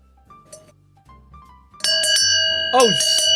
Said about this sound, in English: Would you like to hear this bell?